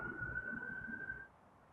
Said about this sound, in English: there's so many sirens outside today.